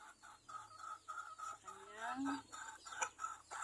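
A sick chicken with phlegm clucks in a steady series of short, close calls, with one longer rising squawk partway through, under quiet background.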